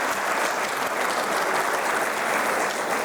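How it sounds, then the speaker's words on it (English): Steady, dense applause from an audience at a ceremony, close and loud, a continuous wash of many hands clapping with no talk over it. "So definitely a round of applause to Dr. Muhammad Yusuf for all his efforts."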